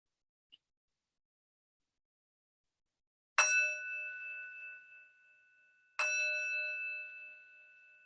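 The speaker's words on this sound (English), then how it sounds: "ending the practice when you can no longer hear the sound of the bell" Two clear strikes of a bowl-like meditation bell, each ringing out with a long, shimmering decay, spaced a few seconds apart after near silence.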